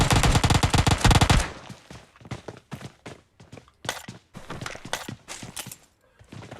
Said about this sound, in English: Neo getting into the gunfight with Quest